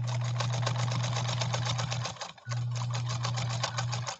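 A 1957 Japanese Fleetwood Model 492-TW sewing machine runs smoothly with a fast, even stitching rhythm over a steady motor hum. It pauses briefly midway, then resumes, close and clear with no talking.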